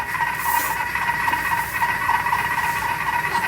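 A Thermomix turns over at slow speed while cooking a Weight Watchers style vegetable soup, giving a steady, even hiss and whir with a faint tonal hum that carries on unbroken from start to finish, with nobody talking.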